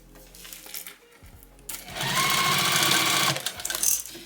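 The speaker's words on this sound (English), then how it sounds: "And then we're going to top stitch these." A sewing machine top-stitches lace onto a bag: after a few light handling clicks comes a loud, close, steady run of rapid stitching that slows and stops with a couple of short final bursts.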